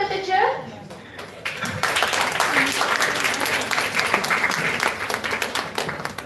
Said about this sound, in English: Can you welcome them with a cheer?